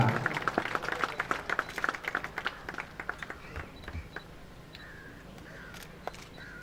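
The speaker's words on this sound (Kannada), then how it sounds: "ಜೋರಾದ ಚಪ್ಪಾಳೆ ಮೂಲಕ ಶುಭ ಹಾರೈಸೋಣ" Outdoor crowd applause at a fireman passing-out parade after the best outdoor training award: dense clapping that thins out over the last seconds, with scattered bird calls in the open air.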